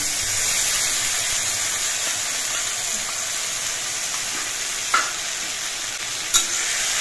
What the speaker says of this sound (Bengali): এই মশলা দিয়ে সবজিগুলো আরো কিছুক্ষণ কষিয়ে নিতে হবে।